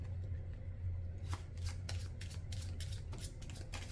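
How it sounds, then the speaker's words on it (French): Playing cards being riffled and shuffled by hand during a math-themed card trick, a run of crisp, rapid rustling bursts close up over a low steady hum, with no talking. "Donc, on mélange un peu les cartes."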